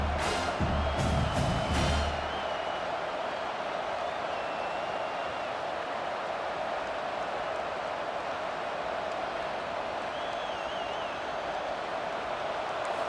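Stadium crowd roaring in EA Sports College Football 25, a steady, dense wall of cheering that holds loud throughout, with a brief burst of clapping and whoops near the start and faint whistles drifting over it.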